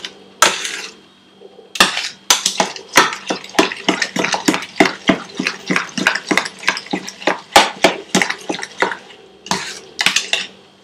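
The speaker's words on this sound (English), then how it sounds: "Mix this real good." Spiced minced meat for oil-free Mughlai seekh kebab being mixed vigorously by hand in a bowl, giving a loud, steady run of wet slaps and bowl clatters with brief pauses, with no talking.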